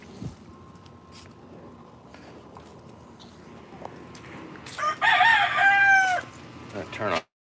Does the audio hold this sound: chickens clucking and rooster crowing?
yes